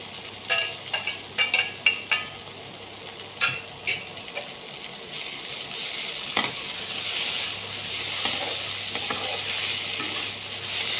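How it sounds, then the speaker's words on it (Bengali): A spatula stirs chopped coriander and peanuts through a bread pakora filling frying in a pan, giving a run of sharp scraping clicks followed by a steady sizzle with occasional knocks. "ধনেপাতা দিয়ে সামান্য নাড়াচাড়া করে নিলাম।"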